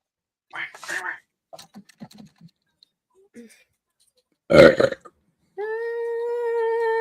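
A loud, short burp after drinking a Burdock Double Ducks hazy double IPA beer, coming between brief bits of speech and followed by a steady tonal hum.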